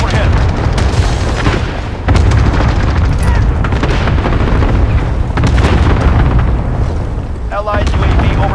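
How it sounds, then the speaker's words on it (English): Cluster strike explosions in the shooter game Modern Warfare roll in as heavy booms and rumbling blasts, loud and continuous, with battlefield noise filling the whole stretch. "Allied cluster strike incoming."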